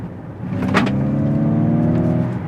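A steady electronic hum with layered tonal lines rises slightly in pitch, the artificial drive sound of a Ford Mustang Mach-E GT electric car in high performance mode, with a brief whoosh near the start.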